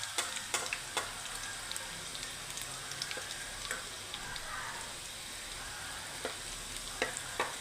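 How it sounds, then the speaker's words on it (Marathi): Garlic, then onion, frying in a pan for baingan bharta, a faint steady sizzle broken by sharp intermittent pops and spatters, with no talking. "थोडी लसण भाजला की मग कांदा भाजते."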